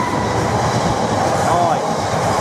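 Class 66 freight locomotive 66712 passing through Stowmarket station, a loud, close, sustained engine roar with rumbling wagons under a voice speaking.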